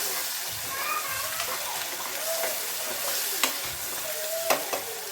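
Onions sizzle in a pan for paneer tikka masala, a steady bubbling fry with occasional utensil clicks while a person talks over it.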